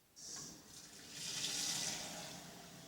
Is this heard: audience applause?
no